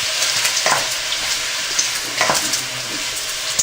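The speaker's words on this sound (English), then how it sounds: "the meat is about getting nicely browned" Venison meat browns in a frying pan for chili, a continuous close sizzle and crackle broken by a few scraping stirs of a utensil against the pan.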